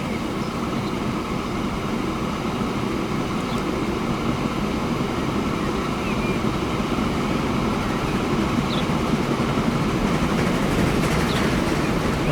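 A train passing in the Transport Fever 2 simulation game, a steady loud rumbling roll with low engine drone and faint high squeals, continuous for the whole stretch.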